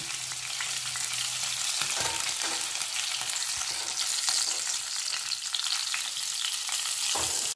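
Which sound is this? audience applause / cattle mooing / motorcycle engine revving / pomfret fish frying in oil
pomfret fish frying in oil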